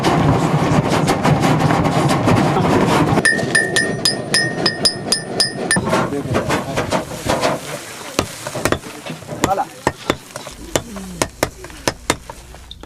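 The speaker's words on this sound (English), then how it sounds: "Two senior smiths pull the hot iron from the fire and begin to shape it on the anvil." Blacksmiths at a traditional African forge shape hot iron on an anvil with old-fashioned round hammers, giving dense ringing metallic clangs that thin into irregular, sharp, isolated blows, close and loud with no talking.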